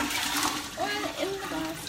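Homemade kombucha pours into a glass with a short, splashy liquid gush and trickle, while voices talk over the pour.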